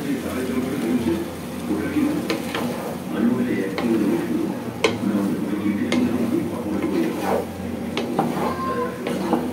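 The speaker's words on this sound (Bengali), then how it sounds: "ভালোভাবে নেড়ে এবার ঢেকে দেব।" Spoon scraping and stirring rice with potato chunks in a pot of water, irregular clinks and scrapes against the metal at close range, with someone talking over it.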